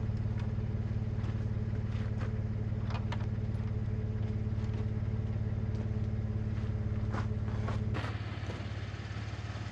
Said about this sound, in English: After all the car trouble on my drive here, I was relieved to get it started and running.